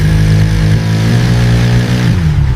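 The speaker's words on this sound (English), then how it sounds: "After countless hours, the engine finally takes its very first breath." A newly built motorcycle engine in a factory runs loud and close, a steady throbbing idle with a slight dip in pitch near the end, with no talk over it.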